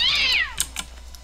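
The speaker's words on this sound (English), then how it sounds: "This ostrich sounds like a cat." A cat-like meow from an ostrich creature in a video game, one loud falling harmonic cry followed by faint clicks and taps.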